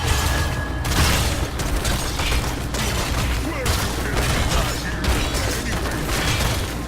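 Continuous gunfire and booms in a Heroes of the Storm match as shots are taken at a target, a dense, loud barrage with game effects running throughout and no clear talk.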